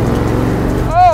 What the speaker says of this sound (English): the old school monster truck with the mega wheels